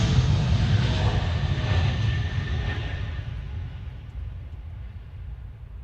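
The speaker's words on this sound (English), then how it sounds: "Oh, listen to that United engine roar." A United airliner's jet engines roar at Gerald R. Ford International Airport in Grand Rapids, a loud, broad, close rumble and hiss that slowly fades as the aircraft moves off, with no talk.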